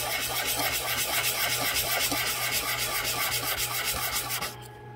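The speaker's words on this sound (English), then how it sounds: "And then sand that completely flat." A small part from a 1:12 scale toaster kit is rubbed flat by hand with quick, rhythmic back-and-forth rasping strokes, close and steady, then stopping abruptly near the end.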